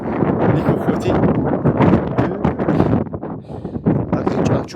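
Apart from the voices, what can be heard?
wind blowing at night in a cemetery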